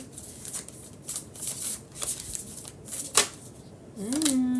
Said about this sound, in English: I'm loving how these cards are shuffling.